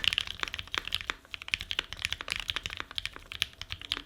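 Fast typing on a budget mechanical keyboard with a slightly hollow sound, crisp clicky keystrokes in an uneven rhythm, close up with no voices.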